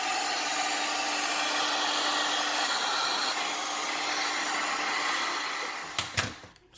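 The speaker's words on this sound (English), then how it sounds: "now it's gonna take your heat gun" A heat gun blows hot air while aftermarket lights are fitted to a Dodge Charger Hellcat, a loud, steady close rush of air that cuts off near the end with a few clunks.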